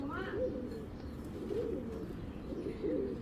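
Tota pigeons coo in repeated low throaty phrases, close by, with a few faint chirps and a voice talking in the background.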